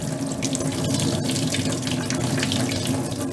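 About a litre of water pours from a cup over orchid substrate in an open-sided planter, a steady, close splashing rush that continues evenly throughout with no talk.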